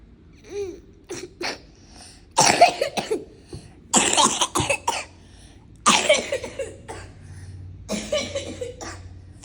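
Several harsh coughing bursts come in uneven clusters, close and fairly loud, with short quiet gaps between them and no talk.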